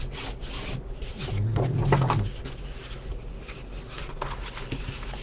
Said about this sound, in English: Now we're going to fold and burnish.